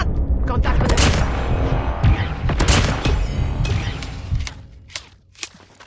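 Shotgun blasts in a 1-vs-2 video game firefight, several loud broadband bursts in quick succession with ringing tails, under game voice callouts and faint speech.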